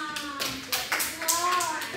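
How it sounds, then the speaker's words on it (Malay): Children in a classroom clap for Halimah, a short burst of scattered handclaps under a teacher's voice and kids' chatter. "Tepuk tangan untuk Halimah"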